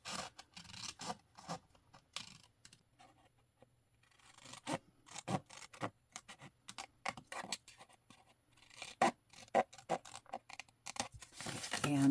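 Scissors snip through card stock in a series of short, crisp cuts, close and fairly quiet, with pauses and light paper rustling between bursts.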